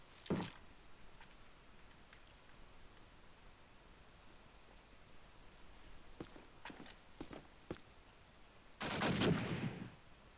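Rifle gunfire in Call of Duty: United Offensive during a competitive match, a few sharp shots scattered over quiet background noise, with a louder burst of fire near the end.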